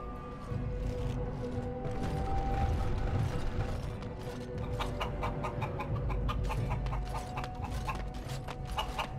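A chicken in the video game Dragon Age: Origins clucks in short repeated bursts over a steady mechanical, ratcheting game ambience, moderately close.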